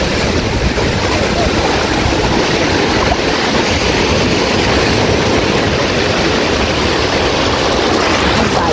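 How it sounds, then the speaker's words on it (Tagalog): Loud, continuous roar of ocean surf mixed with heavy wind buffeting the microphone, with no clear breaks between waves. "Grabe yung alon na yun eh."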